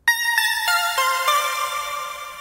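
A bright synth pluck in FL Studio with a low-cut EQ removing the bass plays a rhythmic run of about five chords, with thin, ringing upper harmonics and a sustained tail, with no talking.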